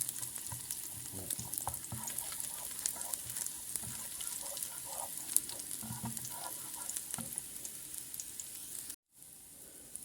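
Garlic sizzles and crackles steadily as it fries in a hot pan for Egyptian fatta, with occasional stirring scrapes; the sound cuts out briefly near the end, then returns quieter.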